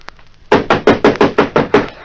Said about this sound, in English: He's banging on the door now